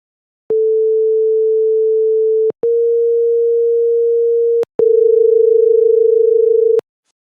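Two pure electronic tones near A4, a few hertz apart, sound first one at a time and then together. Three steady, equally loud two-second tones play with short gaps, and the last carries a rough, beating dissonance.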